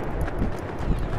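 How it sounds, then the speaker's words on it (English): Footsteps in a multiplayer video game thump in a quick, uneven run, fairly close and steady under a player talking over a noisy game mix. "I hear real footsteps."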